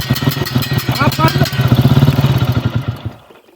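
Motorcycle engine running close by, a rough, pulsing mid-range chug that swells and then fades near the end, mixed with rattling clatter.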